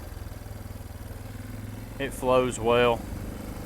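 A Suzuki DR650 dual-sport motorcycle on a trail ride putters steadily at low revs, a pulsing single-cylinder thump heard close throughout, with a rider briefly speaking over it near the end.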